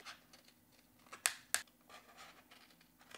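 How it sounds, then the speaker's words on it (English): Scissors cut around a printed paper card image, two sharp, crisp snips close to the microphone amid quiet paper rustling. "So I'll just go in really easily with my scissors and just cut right around this image"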